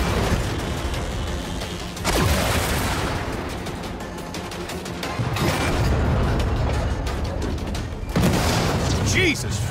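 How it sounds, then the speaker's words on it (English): Explosions ring out in the 2022 Saints Row video game after a VTOL aircraft crashes, heavy booms and blasts bursting repeatedly across the scene, loud and close, with game dialogue spoken over them. "A falling VTOL must have hit something important. I'm seeing explosions all over."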